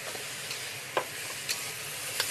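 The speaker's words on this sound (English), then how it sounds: "Then I'm going to add my scallions." Scallions sizzle in a very hot wok on a BlueStar cooktop, a continuous close frying hiss with a few brief stirring clicks and scrapes.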